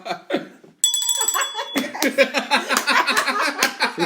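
A small hand bell with a "Ring for Wine" label rings with a bright, sustained metallic tone, followed by lively overlapping laughter and chatter from a group nearby.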